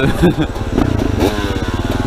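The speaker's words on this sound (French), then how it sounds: "ce jeune homme en train d'essayer de démarrer sa moto, son véhicule terrestre à moteur de type enduro motocross" A KTM 300 EXC enduro motorcycle engine turns over and catches, giving a loud, close, uneven rumble with rapid pulsing firing, mixed with bursts of voice over the start.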